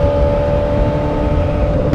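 Loud, steady engine drone from a Yamaha R6 sport motorcycle on a road, a heavily modified, very loud bike, holding a constant close hum with strong low rumble and no talk.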